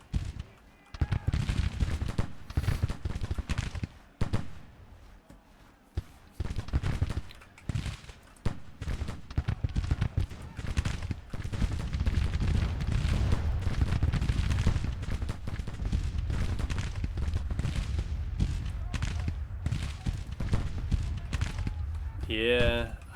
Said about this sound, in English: That sounded like a big volley.